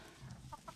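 A large, brightly feathered farmyard rooster, about twice the size of the other chickens, gives a few short, quiet clucks during evening chores, faint and close with a low background hum.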